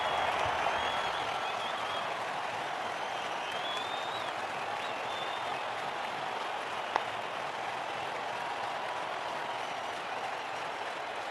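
A stadium crowd in the WCC3 cricket video game applauds in a steady, distant wash of clapping and cheering that holds throughout, with one sharp click partway through.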